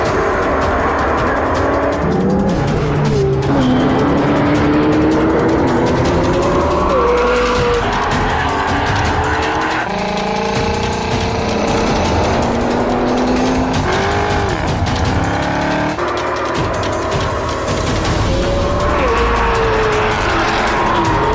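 A McLaren supercar in a drag racing video game revs hard, its engine note sweeping up through gear changes with tire squeal, loud and constant without pause.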